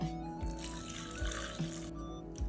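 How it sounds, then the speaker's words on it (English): Water pours and splashes steadily into a cooking pot, a faint continuous running flow with low thuds behind it. "Add some water."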